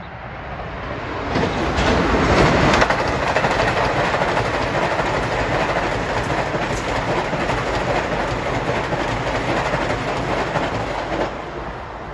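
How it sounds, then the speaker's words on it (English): An LIRR M9 electric train rolls past the eastbound platform at Elmont station on track 4, a loud, close, steady rumble with rail clatter that holds for about twelve seconds. "approaching at 345 is 2055, Ronkonkoma Grand Central. The first 2 M9s on this train are 9199 and 9200"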